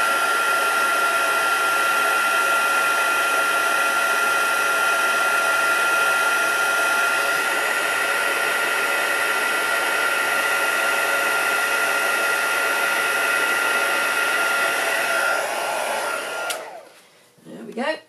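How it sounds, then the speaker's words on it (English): A heat gun used for crafting blows a loud, steady whooshing roar at close range for a long stretch, then cuts off and winds down near the end. "heat up my heat tool"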